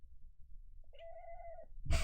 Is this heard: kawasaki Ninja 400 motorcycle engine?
no